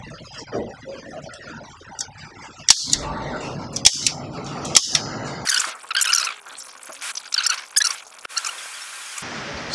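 Several sharp shots from a Heckler & Koch Mark 23 .45 ACP pistol fired double action in quick succession, loud and close, followed by bursts of high squealing noise.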